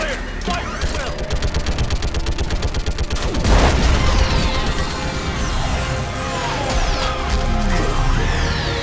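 A firefight in Mass Effect 3: rapid bursts of automatic weapons fire and sharp energy shots crackle loudly and continuously, with a heavy blast near the middle, swept tones and scattered shouting voices over the din.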